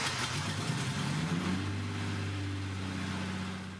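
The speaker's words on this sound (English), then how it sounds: "I drove the car out of the workshop." A BMW E30 325i Touring, newly fitted with a replacement engine and gearbox, is driven out of a workshop. Its engine revs briefly and rises in pitch, then settles into a steady idle, loud and close with no talking.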